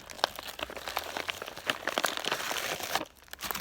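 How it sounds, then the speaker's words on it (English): A heavy-duty plastic MRE bag crinkles and crunches up close, with repeated sharp rustles and crackles that continue steadily, then briefly quiet down before one last crinkle. "so this bag is a real heavy-duty plastic bag."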